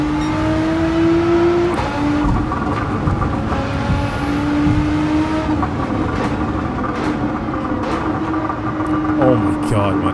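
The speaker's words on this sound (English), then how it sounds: "Loads of pops and crackers from that exhaust." Nissan GT-R race car on soft racing tyres in Gran Turismo 7, its engine holding a steady loud drone with shifting revs and crackling exhaust pops throughout.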